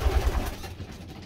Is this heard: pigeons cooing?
yes